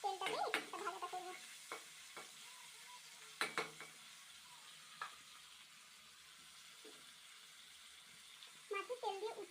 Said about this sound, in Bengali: মাছের তেল খুব ফাটে